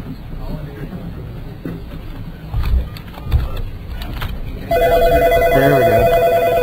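Telephone ringing loudly with a sustained electronic ring tone that cuts in abruptly after a stretch of rustling and handling noises, with people talking nearby.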